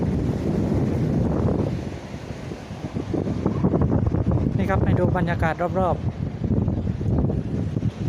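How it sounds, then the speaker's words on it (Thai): Evening wind at the seashore rushes steadily across the microphone as a low, constant roar, with someone talking over it throughout. "ลมพัดเย็นสบายนะตอนเย็น"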